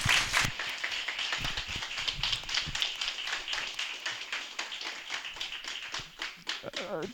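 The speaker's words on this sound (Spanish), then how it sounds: "Vamos a darle un aplauso" A room full of people applauds, dense overlapping claps steady for several seconds and thinning slightly toward the end, with some voices mixed in.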